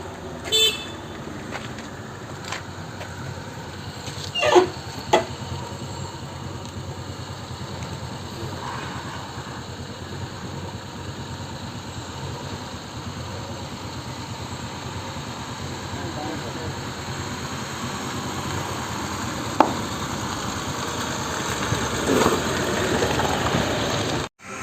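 A four-wheeler engine drones steadily as the vehicle is driven across a bridge on the road to Agonda beach in South Goa, close and continuous, with a few short horn-like peaks and faint voices in the background.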